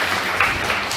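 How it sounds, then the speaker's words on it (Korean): A church congregation at a Sunday service claps together after a choir song, with dense, steady applause filling the room for about a second. "그래서 박수 치라고 이야기한 건데"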